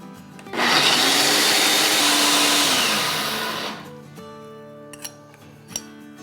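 Electric grinder whirring loudly as it pulverises almonds, poppy seeds and dry coconut powder, a steady high roar lasting about three seconds before winding down, then a few light clinks of the jar.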